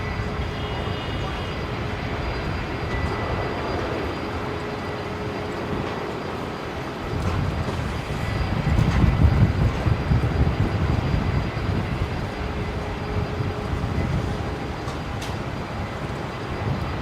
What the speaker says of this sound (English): There it is, the A330 arriving from Auckland,